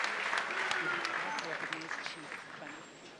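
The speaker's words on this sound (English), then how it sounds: "A round of applause for you" Applause from a crowd at an entrepreneurship forum, a bright wash of clapping that gradually fades, with a voice speaking over it.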